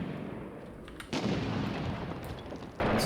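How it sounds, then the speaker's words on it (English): Mortar fire in the war game Six Days in Fallujah, two heavy booming impacts with rumbling tails, the second cutting in sharply near the end, loud against a steady background roar. "this is catching a lot of mortar fire"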